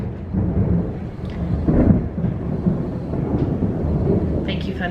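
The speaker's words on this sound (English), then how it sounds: "Thank you, Thunder, for interrupting me." Thunder during a storm: a low, continuous rumbling that swells and fades for several seconds, heard from a distance with faint rain-like hiss on top.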